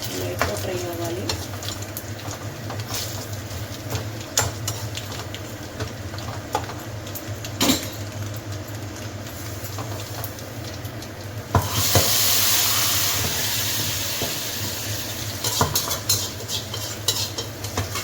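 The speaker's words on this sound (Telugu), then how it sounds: "బాగా మాడొద్దు, లైట్గా ఫ్రై అవ్వాలి." Fish fries lightly in a pan with a steady, close hiss and sizzle. Scattered metallic clinks and scrapes of a utensil stirring and turning the pieces run throughout, and the sizzle swells loudly toward the end.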